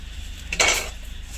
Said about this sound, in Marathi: आता कवर काढत आहे